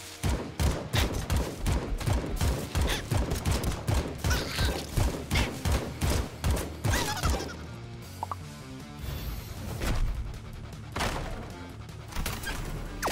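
Rapid gunfire in the action roguelike game AK-XOLOTL, a fast rhythmic string of punchy shots over game music, thinning out into scattered hits and effects toward the end.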